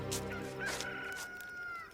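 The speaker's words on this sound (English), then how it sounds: "and a rooster crowed" A rooster crows once in a long, drawn-out cock-a-doodle-doo, fairly close and clear, with soft rustling around it and no one speaking over it.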